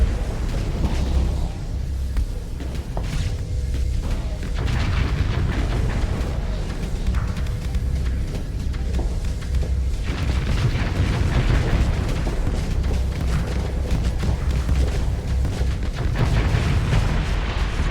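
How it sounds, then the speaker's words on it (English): Torpedo explosions in the space combat game Starsector, as a Pegasus warship keeps launching torpedoes at a shielded enemy: continuous heavy booming and rumbling detonations, loud and dense throughout, with no talk. "I'm just gonna keep launching torpedoes. You're gonna have to drop your shield at some point."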